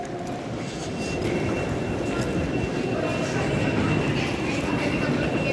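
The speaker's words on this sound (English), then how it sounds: "So there's a train." A train rumbles steadily and fairly loud throughout, a continuous low-pitched roar of wheels and carriage noise with faint voices underneath.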